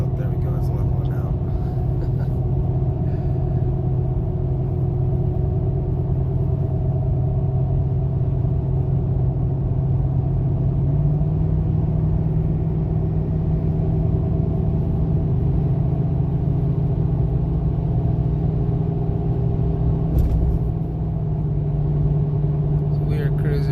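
Steady tire hum and low road rumble from a solid-axle-swapped 2015 Toyota Tundra cruising at highway speed, continuous and even from inside the cab, with a person talking quietly over it.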